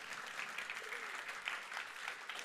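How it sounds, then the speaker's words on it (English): A school auditorium audience applauds the host high school at a qualifier event, steady dense clapping throughout, heard from within the crowd at moderate level. "let's give a round of applause again for Curra High School for 5 of 8 being gracious hosts"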